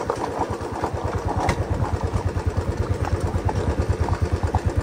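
Motorbike engine thumping along a rough off-road trail near Chikmagalur waterfalls, a steady rhythmic low pulse close by with slight surges in throttle, no talking.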